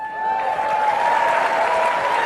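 An audience claps continuously at a talk, a dense, steady round of applause close by from start to finish without voices over it.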